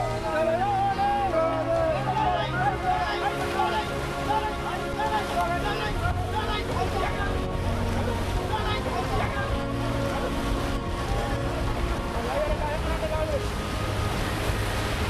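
An octopus fishing boat off Mauritania plows through high ocean waves, its engine drone and rushing, crashing water loud and constant throughout, with wind buffeting and voices calling out over the noise.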